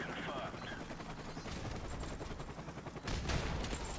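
Shotgun fire in a first-person shooter match, heavy bursts of booming blasts and rattling gunfire running throughout, dense and loud, with a sharper, louder burst near the end.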